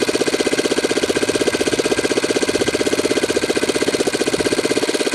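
Saito twin-cylinder model engine idling, a rapid, even, steady putter held throughout at close range and fairly loud, with no voices.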